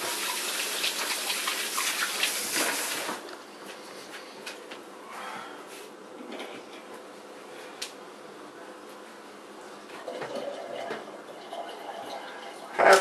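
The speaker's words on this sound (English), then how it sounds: "I'll rinse my hands here." Running water from a kitchen tap rinses hands after slicing potatoes for au gratin: a loud, steady rush for about three seconds, then quieter room sound with faint clatter.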